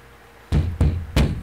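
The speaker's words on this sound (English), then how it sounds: "someone's knocking" Three firm knocks on a door in the Nancy Drew: Secrets Can Kill video game, evenly spaced and close, each a dull low thud standing alone over faint background hum.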